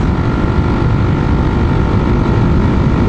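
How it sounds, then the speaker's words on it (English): A Honda XR400R motorcycle engine runs steadily while riding, a loud, dense low rumble with constant wind-like roar and no breaks, close up. "But the basic engine in this bike"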